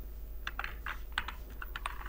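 Keys clatter on a computer keyboard during an HTML coding lesson, with a quick irregular burst of close, crisp keystrokes and no talking.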